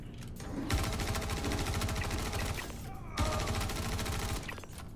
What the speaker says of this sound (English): That son of a bitch hit me with a shotgun.